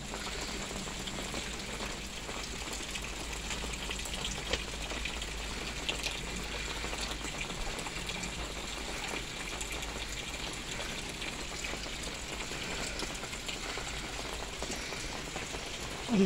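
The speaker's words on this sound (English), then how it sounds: "But it is pouring out here." Heavy rain pours outdoors as a dense, unbroken hiss of water that holds steady and fairly loud throughout, with no voices.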